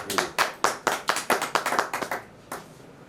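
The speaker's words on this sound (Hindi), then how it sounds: "ताली हो जाए" An audience at a business talk claps in loose, uneven bursts, a handful of sharp, close claps in ragged rhythm that thin out and stop, with one last clap near the end.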